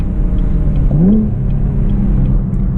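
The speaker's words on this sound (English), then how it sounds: "A little heel toe downshift there. Do another one in a second." Camaro V6 1LE on a night drive, its engine droning loud and steady inside the cabin, with a quick blip of revs rising and falling about a second in during a heel-toe downshift.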